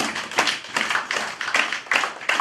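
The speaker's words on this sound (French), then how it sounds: "Acclamons la parole de Dieu." A church congregation claps in unison after the reading of the word of God, loud steady rhythmic clapping in even beats lasting the whole moment.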